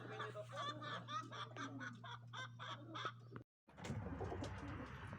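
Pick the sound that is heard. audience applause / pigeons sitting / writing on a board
pigeons sitting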